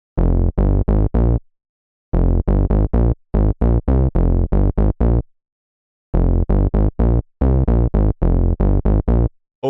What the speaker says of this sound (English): the last Serum bass I'm going to show you is called Soul, and it's a really fat mini Moog bass